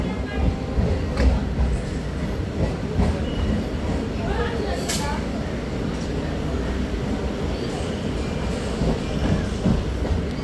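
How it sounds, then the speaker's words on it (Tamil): A Chennai local train pulling out of Washermanpet railway station rumbles steadily from inside the carriage, with low rolling wheel noise, occasional clacks and a brief high squeal; voices murmur faintly beneath. "இப்போ வண்டி வண்ணாரப்பேட்டை ரயில்வே ஸ்டேஷன் டிபார்ட் ஆகிடுச்சு"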